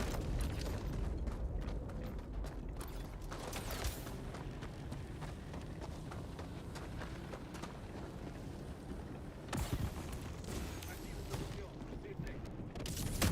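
Repeated explosions from L-bombs in a Helldivers 2 Warbond session crack and rumble through dense continuous game noise, with sharp bursts near 4, 9.5 and 13 seconds while players talk over the din.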